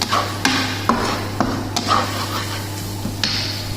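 A spoon scrapes and taps in a pan of dal makhani with its spices, the strokes coming in a regular rhythm about every half second over a steady low hum, close and fairly loud.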